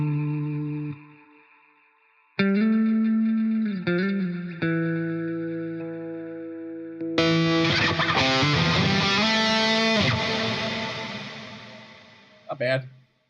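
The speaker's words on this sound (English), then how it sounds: "Morse code echoes." Synth notes passed through a Morse-code style echo plugin, rhythmic repeating pulses bouncing across a full stereo field with heavy effects, starting sparse then swelling into a dense, loud wash before cutting off.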